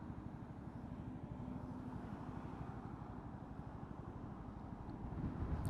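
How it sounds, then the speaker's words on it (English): A gust of wind buffets the microphone of a learner motorcyclist out on a test route, a steady low roaring rumble that builds louder toward the end, with no talking. "that nearly blew me over,"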